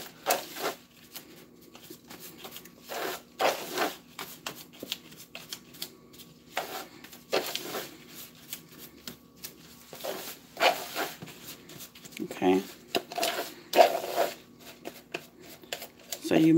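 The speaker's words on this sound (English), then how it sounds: "So you mix it all up until it looks like it's crumbled." Strawberry crumble topping is mixed by hand in a bowl, making soft, irregular rustling and crumbling scuffs in short bursts, fairly quiet and close, with a few faint clinks scattered among them.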